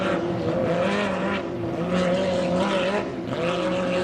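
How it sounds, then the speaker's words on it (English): Hydroplane racing boat of the 2.5-litre class, number 46, revving hard on a river course as the driver pumps the throttle after catching air, a loud continuous engine whine that rises and falls, heard up close and steady. "And you can hear the 46 of Claude Loisel as he's pumping that gas pedal because the boat got a lot of air up underneath it"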